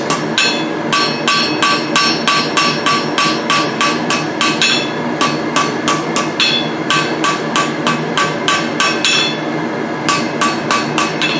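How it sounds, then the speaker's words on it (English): A blacksmith hammers hot steel tongs to flatten out cross beam marks, striking in quick, loud, ringing bursts close up, with brief pauses between runs of blows. No voices are heard. "Hammer out those cross beam marks."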